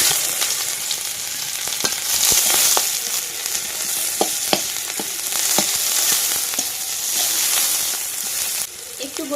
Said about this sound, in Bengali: কড়াইতে পেঁয়াজ কুচি দিয়ে দিচ্ছি,